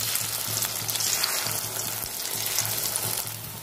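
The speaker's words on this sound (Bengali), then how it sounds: "গ্যাসটা আমি মিডিয়াম আঁচে রাখবো, আস্তে আস্তে ডিমটা আমি ভেজে নেবো" Egg for a masala omelette fries in oil in a pan over medium heat, giving a steady, close crackling sizzle that runs throughout with no talk.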